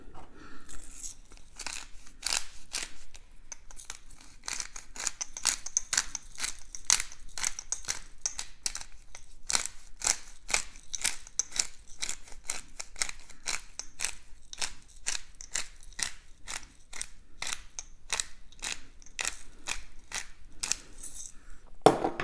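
A pepper mill grinds freshly cracked pepper over seasoned hot wings, a long run of rapid, crisp clicking cranks in an uneven rhythm, close up and with no talking.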